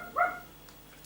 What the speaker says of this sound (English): That's my dog barks.